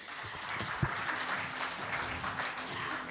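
An audience applauds steadily at a technical session of the 19th ARCASIA Forum on architecture in 2017, a dense, even patter of many clapping hands that continues throughout, somewhat distant in a hall, without speech over it.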